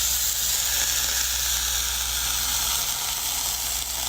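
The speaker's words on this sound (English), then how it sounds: "Oh, it's sizzling." Steady hot sizzle and hiss of a flat iron pressed onto wet hair, continuous and close, with no talk.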